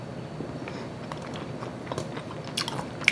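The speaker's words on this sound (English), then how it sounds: "I love crunchy sweet potatoes." Crunchy roasted sweet potatoes are bitten and chewed close up, with a soft run of crunching that grows sharper and louder near the end.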